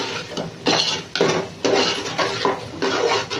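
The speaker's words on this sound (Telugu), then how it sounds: "ఓకే, మిక్స్ చేసుకొని ఫ్రై చేసుకుందాం." Biryani masala is mixed and fried in a pan, with rhythmic scraping and clanking of a spoon against the metal over a continuous sizzle, repeating in even strokes about every half second.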